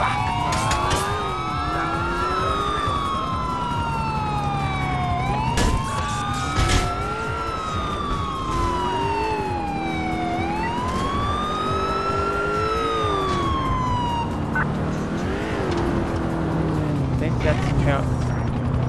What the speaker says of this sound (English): That's the ambulance, Sandro's ambulance.